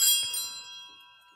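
A Sanctus bell rung at Catholic Mass: a single bright metallic strike, close and clear, whose sustained ringing tones fade steadily over about a second, with no voices.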